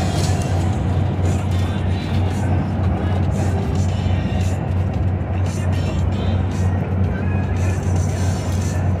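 Several semi trucks pass a van on a highway, a loud continuous engine and road roar with low drone and tyre hiss swelling as each truck goes by, while people talk over it.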